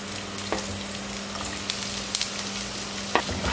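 Onions frying in oil for a Kerala-style squid roast, a continuous close sizzle with occasional sharp spatula clicks and scrapes against the pan, no one speaking.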